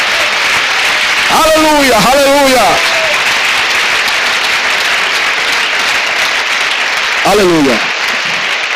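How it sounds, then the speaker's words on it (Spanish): A church congregation at a sermon on end-times events bursts into loud, continuous applause for the Lord, while a voice calls out in sung praise over the clapping twice. "Que sea fuerte el aplauso al Señor de la gloria."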